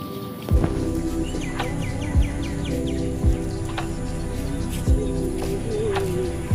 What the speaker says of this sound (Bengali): বিভিন্ন পাখির ডাকছে এখন